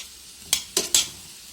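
Onion frying in oil in a pan gives a soft steady sizzle, broken by three quick bright scraping bursts as it is stirred, close and fairly quiet.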